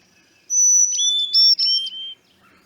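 A chickadee sings its breeding song in a Mississippi backyard: clear, loud, close whistled notes in a short falling series, alone against quiet surroundings.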